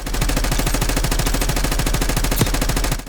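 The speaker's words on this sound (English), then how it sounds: "I can just keep on shooting through the wall" Rapid automatic gunfire in Call of Duty, shots punching through a wall in a steady fast stream for about three seconds, loud and close, then stopping abruptly.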